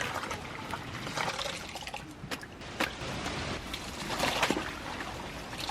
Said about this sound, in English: Now we're gonna do our first rinse.